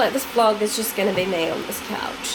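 An electric kettle (jug) heats water with a loud, steady, rushing roar that runs throughout while a person talks nearby over it.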